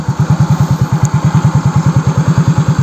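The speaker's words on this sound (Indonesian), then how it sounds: "Sambil hidupin motor" A motorcycle engine runs after being started, a loud, close, rapid pulsing putter with no talk over it.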